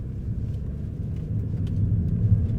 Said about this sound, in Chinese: 你看我加速 ，engine